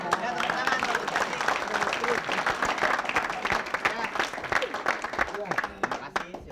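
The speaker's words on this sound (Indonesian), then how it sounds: "tepuk tangan Pak Gati" An Indonesian comedy show audience claps energetically, a dense, continuous round of applause with scattered whoops and crowd noise running for several seconds.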